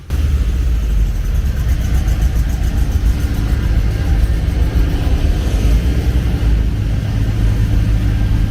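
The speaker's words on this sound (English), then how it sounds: "I'm going to go for a ride in a Mercedes-Benz 300 SL now." Vintage Mercedes-Benz 300 SL sports car on a ride during a retro car outing in Bali, its engine giving a steady, loud, close rumbling drone that holds evenly throughout with no talk over it.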